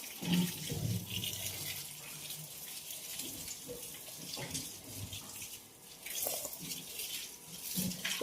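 Water runs from a tap into a mug in a steady, soft, splashy stream that continues throughout with small shifts in flow.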